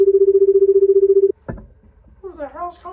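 A telephone rings loudly with a steady, trilling electronic tone for just over a second before cutting off, followed by a clunk and a voice speaking.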